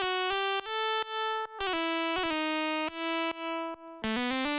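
A short melodic line played on a polyphonic synthesizer, bright sustained tones stepping through a series of notes with clean attacks and brief gaps, loud, close and alone.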